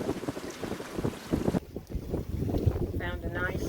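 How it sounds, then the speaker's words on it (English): Wind gusts over a Catalina 42 sailboat under sail, a rushing, buffeting noise close on the microphone, with people talking over it. "Feels like we're getting a little gust."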